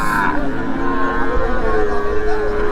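At a cattle market, a Gir crossbreed heifer calf gives a long, drawn-out moo close by, with faint market voices murmuring underneath.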